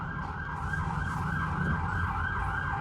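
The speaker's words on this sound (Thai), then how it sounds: "นี่ก็เป็นเอฟเฟก ของจริงนะ ที่รถพยาบาลเขากำลังวิ่ง" An ambulance siren wails outdoors on a street, its steady rising and falling tone sweeping in a regular cycle, loud and continuous as the vehicle drives past, with no talk over it.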